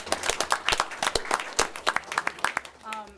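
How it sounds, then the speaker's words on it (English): A small audience at a board of education meeting claps in scattered, distinct hand claps, fairly close and uneven, fading as a voice starts speaking at the end. "You can clap."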